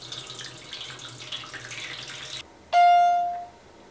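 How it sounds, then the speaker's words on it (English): Hot water runs from a home tap for a homebrew setup, a steady hiss for over two seconds, then a brief squeak or tonal burst as the flow changes, fading away. "I'm using hot tap water."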